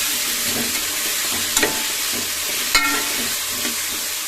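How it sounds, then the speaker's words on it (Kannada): Potato, onion and tomato fry in a pan for rice upma, a loud continuous sizzle and hiss close up, broken by a couple of sharp spatula scrapes as the mixture is stirred. "ಈಗ ನೀಟಾಗಿ ಮಿಕ್ಸ್ ಮಾಡಿಕೊಂಡು 2 ನಿಮಿಷ ಫ್ರೈ ಆಗಲಿ."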